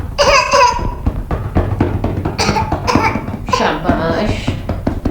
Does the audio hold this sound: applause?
no